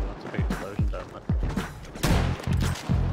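Gunfire in a video game sniper battle, several heavy thumping shots in quick succession, loud and close, with a voice talking throughout.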